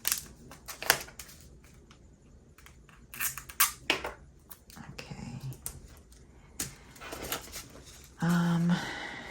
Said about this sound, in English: those scissors are loud